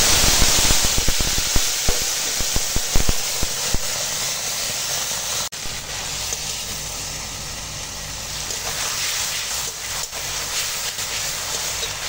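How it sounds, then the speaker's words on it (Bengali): Grated tomato dropped into a little hot oil in a wok, giving a loud, sharp sputtering burst at first that settles into a steady, hissing sizzle close by. "এখন কড়াতে অল্প করে তেল দিয়েছি আর এখানে যে টমেটোটা গ্রেট করে রেখেছিলাম দিয়ে দিচ্ছি"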